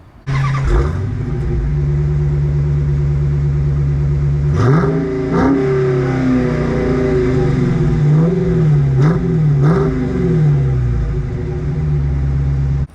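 A 2022 Dodge Challenger Scat Pack Widebody V8 cranks and starts nearby, then settles into a deep rumbling idle punctuated by several throaty revs that rise and fall.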